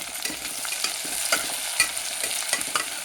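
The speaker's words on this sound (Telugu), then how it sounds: "రెండు పెద్ద ఉల్లిపాయలు వేసానండి. ఇది 6 పచ్చిమిరపకాయలు వేసాను." Two large onions and six green chillies frying in a pan for biryani, a steady bright sizzle broken by regular scraping stirs and small clicks, close and even, with no voices.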